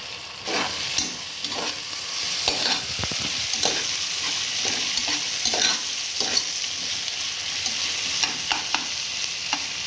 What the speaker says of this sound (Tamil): புதினா, கொத்தமல்லி நல்லா கலந்து விட்டுக்கலாம்